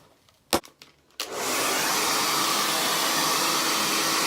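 A hair dryer switches on and blows with a loud, steady roar while wet hair is brushed and lifted, following a few brief taps and clicks of handling.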